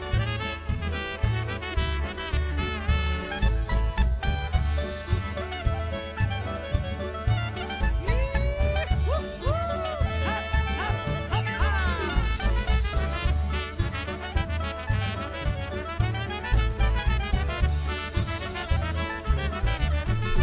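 A polka singer from Buffalo performs a lively polka song, her sung vocal riding over a bouncy band with a steady oom-pah beat that stays full and continuous throughout.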